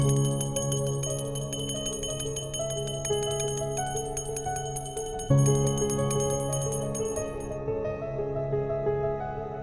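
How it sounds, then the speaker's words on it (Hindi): A bell is rung late at night at home in a drama, with two long ringing strikes about five seconds apart, each with a bright, steady, slowly fading tone and no voices. "इतनी रात गए, ये घंटी क्यों बजा रही हो तुम?"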